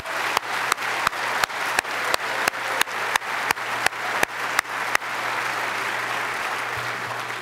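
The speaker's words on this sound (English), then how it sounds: "Let's give them a big round of applause." Audience applause at a presidential library forum, a steady wash of many hands clapping with sharp regular transients over the first five seconds, then a sustained even clapping that carries on to the end.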